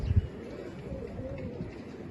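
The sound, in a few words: pigeon cooing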